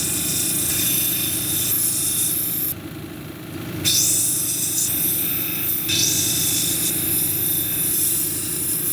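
A 220 grit grinding wheel shapes a Turritella stone cabochon, giving a steady close, loud gritty rasping and whirring with brief shifts in tone as the stone is lifted and pressed back against the hard wheel.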